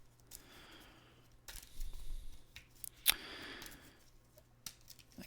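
A deck of Marvel Champions game cards handled and shuffled during a solo tabletop game, giving scattered papery snaps and rustles with one sharp crisp flick midway, close up and with no voices.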